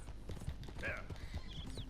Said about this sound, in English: if you start running with your horse